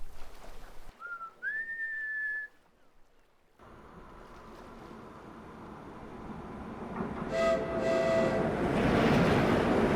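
A magical train's special whistle: one clear whistled note that slides upward and holds for about a second, then gives way to a growing rumble with bright ringing tones toward the end.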